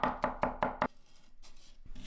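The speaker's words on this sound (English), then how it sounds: "Chop 3 garlic cloves." Garlic cloves chopped with a knife on a board: five quick, even, close knocks in a row, a short pause, then one more strike.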